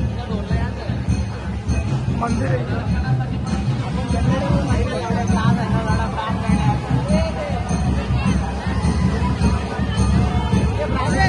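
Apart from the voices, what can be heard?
crowd at the Ekvira temple on a Sunday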